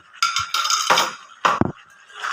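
Soybean chunks stirred in a metal cooking pan for chilli soybean, giving a few scraping clinks and utensil knocks against the pan in short bursts, close and fairly loud, with no talking.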